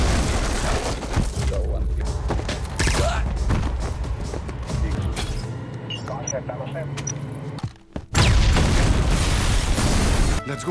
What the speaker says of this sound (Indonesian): Gedung markas Azhar pun meledak dan banyak anggota teroris habis akibat ledakan